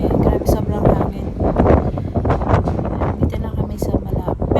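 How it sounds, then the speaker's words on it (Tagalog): Strong wind at the seaside, loud gusty rumbling buffeting the microphone in uneven surges, with people talking through it. "Grabe yung hangin. Maririnig nyo yung hangin talaga niya."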